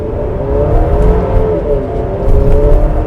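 A 2025 Buick Enclave Sport Touring three-row SUV pulls away from a stop sign, its engine note rising in a loud, steady climb as it gathers speed, heard from inside the cabin.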